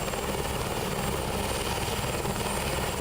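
A helicopter flying during a rescue airlift in a disaster zone, with steady, loud, continuous rotor and engine roar throughout and no other sounds.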